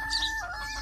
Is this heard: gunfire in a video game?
no